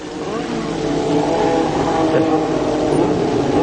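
A race car engine at the 1981 Australian Grand Prix revs hard as the car comes down to line up on the grid, a loud, continuous roar that holds steady throughout.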